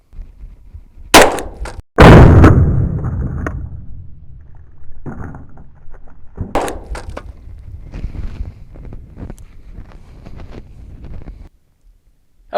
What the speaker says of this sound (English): we're going to be shooting that out of a Glock 20